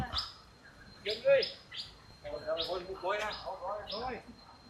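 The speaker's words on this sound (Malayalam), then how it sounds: "അതാ കൂട്ടിലൊരു മൈന" A caged myna in Thailand gives a series of varied chirps, whistles and chattering calls, close by and moderately loud, with short pauses between bursts.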